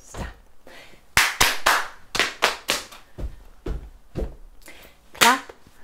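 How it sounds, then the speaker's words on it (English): Hand claps and foot stamps from a group joining an interactive sea-themed story song, in a rhythmic clap-clap, stamp-stamp pattern: sharp, close claps alternating with duller, heavier stamps, with a few quieter beats between. "Clap, clap, stamp, stamp."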